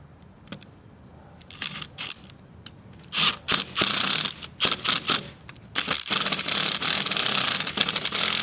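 Metal fittings clink and ratchet as an outdoor soft-water faucet is screwed into place by hand, with bursts of scraping, rotating thread noise broken by short pauses, close and fairly loud, with no talking.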